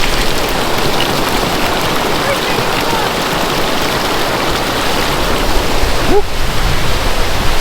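Cold, icy mountain water rushes near Geiranger fjord in Norway as a loud, continuous broadband roar, close and unbroken, with a brief faint tonal chirp late in the clip.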